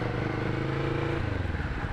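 A cruiser motorcycle engine runs steadily with a deep, throbbing idle-like rumble, loud and close throughout, with no talk.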